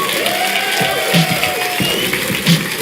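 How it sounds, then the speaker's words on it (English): A crowd claps steadily together at a live Clash Royale gaming event in Helsinki, a dense wash of applause heard from within the room, with some voices underneath. "one more time, a round of applause."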